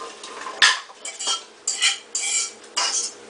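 Metal utensil scraping and clanking against a pot in several short bursts while curry goat is transferred into a pressure cooker, close and distinct, with no talking.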